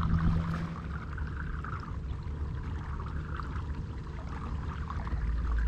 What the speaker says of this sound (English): Scuppers are bubbling up a little bit, but there's no water coming in the boat.